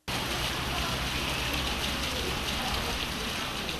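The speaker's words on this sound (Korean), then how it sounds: "숲에 비가 내린다." Rain falls in a forest, a dense, steady hiss of drops on leaves and ground that stays loud and even throughout, with no talking.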